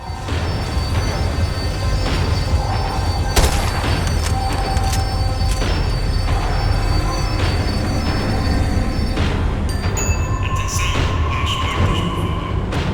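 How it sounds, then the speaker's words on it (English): A tram in Max Payne 3 rumbles loudly and continuously as it slows down, with metallic wheel squeals and screeching tones rising over a heavy low drone. "The tram was slowing down, and I'd only just gotten on board."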